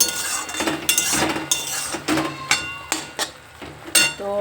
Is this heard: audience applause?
no